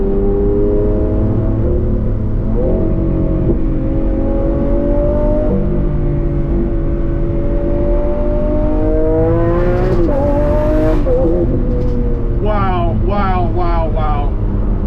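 A Lamborghini Aventador SV accelerates hard from inside the cabin, the engine climbing in pitch through several quick upshifts and ending in a rapid series of shift bursts, loud and continuous.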